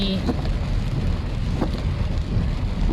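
Heavy rain pours during flooding in Khon Kaen, a loud, dense, continuous hiss of drops striking surfaces close by, with scattered sharper patters and no break.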